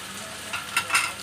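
Small coconut pieces frying in a pan sizzle softly while a utensil scrapes and stirs a few times, close and quiet, with no talking.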